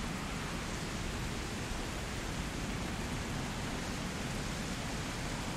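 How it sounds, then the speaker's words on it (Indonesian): Heavy rain pours outside in a steady, dense wash, constant and even throughout with no voices. "di luar, hujan masih turun dengan derasnya"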